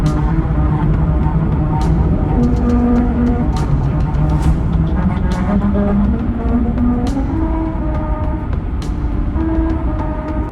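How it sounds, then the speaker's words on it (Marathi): A car driving at set speed over musical road patches on Mumbai's coastal road sounds out a melody: loud, continuous humming tones shift pitch step by step over steady road rumble. "रस्त्यावर लावण्यात आलेल्या म्युझिकल पॅचवरून ठराविक वेगात कार गेल्यास"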